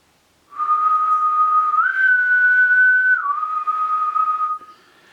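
A person whistles a short imitation of the whistle tune from The Walking Dead, one sustained clear note rising briefly then falling back, close and alone for about four seconds.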